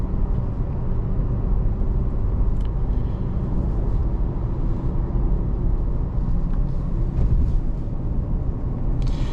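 Cabin-level road rumble from a 2024 Chevy Colorado ZR2 truck with Multimatic suspension, driving on the road. A continuous, fairly loud low-pitched drone of tires and engine, with occasional faint clicks and no talking.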